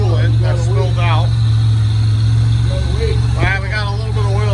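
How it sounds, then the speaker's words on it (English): The freshly installed engine of a Buick Grand National idles steadily with a low, even hum close by, while people talk over it. "All right, we got it running."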